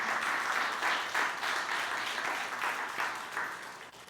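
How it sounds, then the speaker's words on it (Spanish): A church congregation applauds the Lord during a sermon, a steady moderate crowd clapping that holds evenly for several seconds without talk. "Dale un aplauso al Señor"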